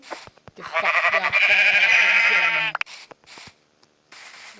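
Sheep in the Minecraft Pocket Edition game bleat in one long, loud, wavering cry lasting over a second, preceded and followed by short clicky game sounds and footsteps.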